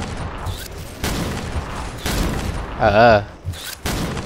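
Sniper rifle shots in the online shooter XSHOT, a few sharp cracks spaced about a second apart with bursts of game noise between, while someone speaks briefly over them.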